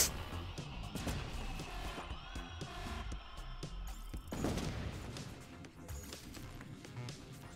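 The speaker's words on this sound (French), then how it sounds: "Ah, attendez, je vais mettre une explosion là." Loud explosions and rapid bursts of gunfire in the mobile game Bomb Bots Arena crash together, with a big blast near the middle before the noise settles to a rumbling din.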